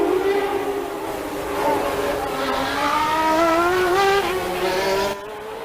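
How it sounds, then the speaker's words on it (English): Formula One race car engine at the US Grand Prix in Phoenix, a high-pitched harmonic whine rising and falling as the car runs over a bumpy section of the circuit, steady and moderately close. "You hear that Prost's car sounds a lot cleaner over those same sections of circuit than Senna's car does"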